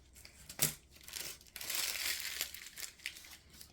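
Plastic piping bag filled with white resin paste crinkling and rustling up close while handled, in short uneven bursts with no talk.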